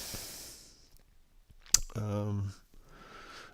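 A single sharp mouse click on the Add button in Moodle 3.5 attendance settings rings out once mid-clip, close and crisp, with a short stretch of speech after it and quiet room noise around.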